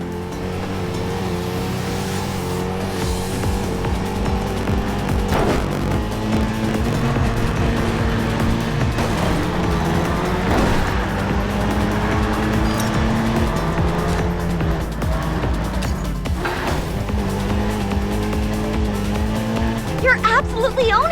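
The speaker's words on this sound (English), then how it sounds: "After starting the drift, keep the throttle. Don't lose speed." Race car in the Racing Master video game, its engine droning steadily through a drift with tire squeal rising at intervals, while a voice talks over it throughout.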